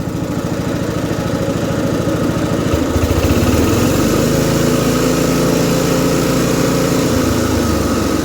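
A vintage MTD ride-on mower's small engine idles steadily and loud nearby, a continuous even rumble with a slight shift in tone partway through, no talking.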